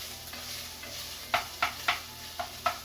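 Ground beef browns over fairly high heat in a hot pot, a soft steady sizzle with five or six distinct scraping turns of a utensil toward the end, close up and without talking.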